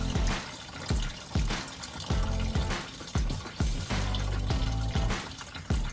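Distilled water gushing and splashing as a Toyota LX450 coolant system is drained and refilled, with repeated loud surging pulses of liquid every second or so, close and continuous, no talk.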